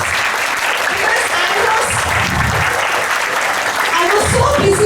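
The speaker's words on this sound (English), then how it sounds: "Once again, big round of applause." Schoolchildren at an Independence Day school assembly clap loudly in a sustained round of applause for classes 7A and 8B, with voices and cheers mixed into the clapping.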